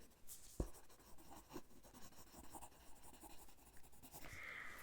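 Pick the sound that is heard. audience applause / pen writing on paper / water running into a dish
pen writing on paper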